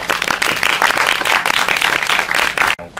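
An audience at a film press conference and gala premiere breaks into loud, dense applause that holds steady for a few seconds and then cuts off abruptly, with a brief murmur after.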